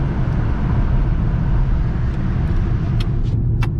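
A hired car drives in Gran Canaria with a steady low engine and road rumble heard from inside the cabin, plus a few faint clicks near the end.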